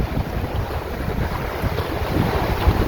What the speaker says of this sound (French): voilà le vent que j'aurai demain